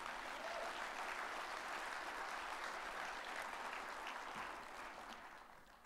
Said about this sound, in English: Let's give that league a round of applause.